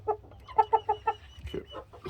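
Backyard flock of hens and roosters, including blue Australorps, clucking in a short run of rhythmic, fairly close calls, then a few softer scattered clucks.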